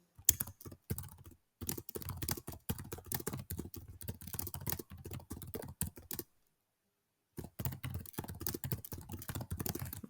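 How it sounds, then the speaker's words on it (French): Fingers tap out a question on a computer keyboard in a quiet room, with close, crisp keystrokes arriving in quick runs, a brief break early on and a longer silent gap before typing resumes. "je tape ma question"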